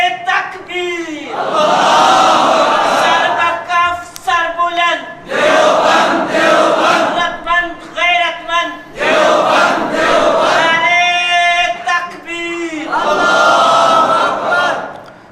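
A large crowd at a religious political rally roars back in unison after a Takbir call, several loud sustained chanted waves with brief gaps between them, voices massed and forceful.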